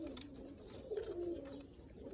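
Large Oman Teddy pigeons coo in a low, continuous murmur, with a slightly louder swelling coo near the middle, close by and with no speech.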